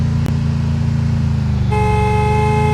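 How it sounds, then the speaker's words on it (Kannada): A car horn in the Free Fire battle royale game sounds as a loud, sustained blare that starts partway through, over the constant low drone of the vehicle's engine. "ಹಾರನ್ ಅದೇ ಹೊಡಿತಿದೆ"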